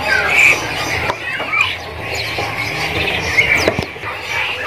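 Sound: caged kerinci bird squawking at a bird shop

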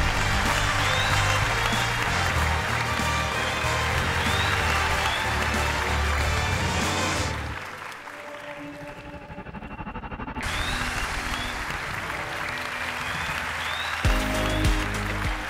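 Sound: studio audience applause on a TV singing show

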